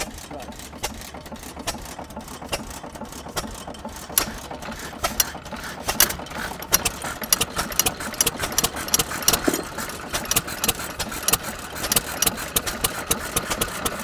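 An old stationary engine idles at about 300 RPM at a fall farm event, giving a steady run of close mechanical clicks and knocks that grow busier midway, with people talking nearby.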